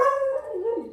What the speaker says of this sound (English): But Figster, go out and find out what you're barking at.